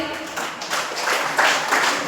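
Audience at a party venue in Janakpur breaking into applause, a short burst of clapping that swells in uneven waves over about two seconds.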